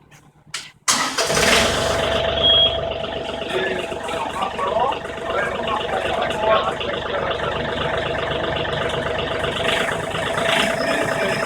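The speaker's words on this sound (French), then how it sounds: "si on démarre le tracteur, on peut sortir" A John Deere 3038R compact tractor engine cranks and catches, then settles into a loud, steady idle that runs on for several seconds with faint voices.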